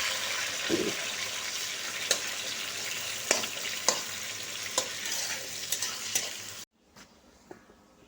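Onions sizzle steadily in a pan with a constant frying hiss, broken by several sharp clicks and scrapes of stirring, before the sizzle cuts off abruptly near the end, leaving faint rustles.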